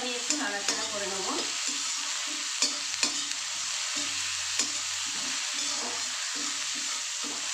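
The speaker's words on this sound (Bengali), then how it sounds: "পেঁয়াজ আদা রসুন কুচানো দিয়ে 1-2 মিনিট আমি একটু নাড়াচাড়া করে নেব।" Chopped onion, ginger and garlic stir-fry in a pan for a soybean dish, a steady bright sizzle punctuated by regular stirring scrapes, close by.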